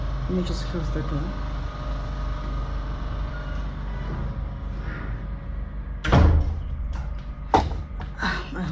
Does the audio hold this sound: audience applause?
no